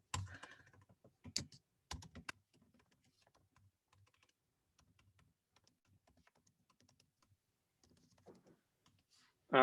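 Computer keyboard typing in a quiet room during an online meetup, with bursts of clustered key clicks near the start and scattered lighter taps throughout, fairly close and soft, with faint background voices.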